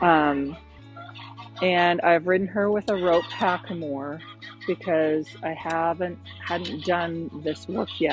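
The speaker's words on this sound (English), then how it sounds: "You can hear my geese in the background." Domestic geese honk and cackle in the background while someone talks steadily over them in the foreground.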